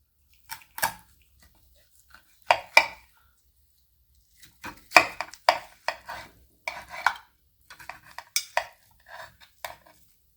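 Knife and utensil work on a roasted mutton leg, heard as sparse, quiet clicks and scrapes in scattered short clusters against near silence.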